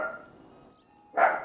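A single dog bark sounds loud and close at the end, after a brief lower whine or yip and a moment of quiet.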